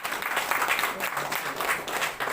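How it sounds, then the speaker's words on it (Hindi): Applause at a life insurance branch meeting in Dhanbad and Jharia, a steady broadband wash of many hands clapping together, dense and continuous throughout with no distinct individual claps. "जोरदार तालियां।"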